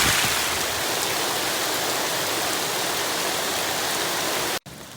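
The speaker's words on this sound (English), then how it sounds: "the rain's so loud." Heavy rain pouring down in a deep forest, a dense, loud, unbroken hiss of water that fills the whole clip before cutting off abruptly near the end.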